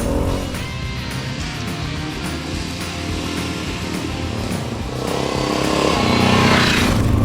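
A Honda CRF250F dirt bike engine running as it rides, droning steadily with rising revs toward the end, fairly close and loud.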